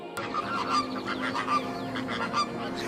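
Migrating flamingos call in a noisy flock, a dense run of overlapping honking, goose-like cries at moderate distance that carry on without a break.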